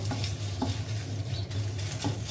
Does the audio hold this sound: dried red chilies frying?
yes